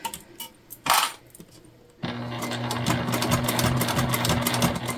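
A sewing machine top stitches a tote bag. A soft knock comes first, then from about midway the motor runs in a steady, close whirring hum with rapid stitching that continues to the end.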